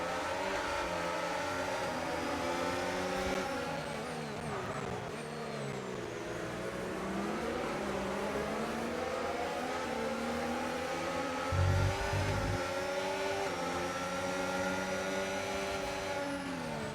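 Race cars roar together at the start of a racing video game, with a continuous layered engine drone and shifting revs, loud and close, alone without speech.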